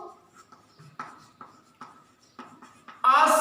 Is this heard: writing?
yes